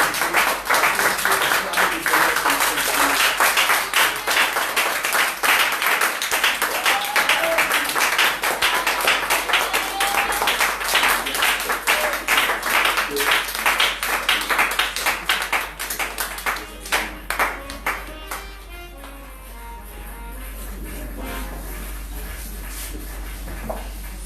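A church congregation applauds and claps loudly in a dense, sustained burst that carries for most of the span, then thins out into scattered claps near the end.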